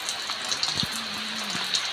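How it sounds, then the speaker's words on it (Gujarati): Light rain pattering steadily, with a few faint scattered drops and a soft hiss, no voices. "સ્કૂલે જવાનું હતું ને ત્યાં વરસાદ ચાલુ થઈ ગયો"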